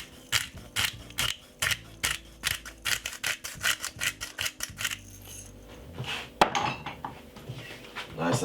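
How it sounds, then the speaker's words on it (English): Cracked pepper being ground for a simple healthy salad: a rapid, regular series of gritty rasping clicks from a grinder, about two per second and fairly close, fading into looser scraping and a sharp clink near the end. "Cracked pepper."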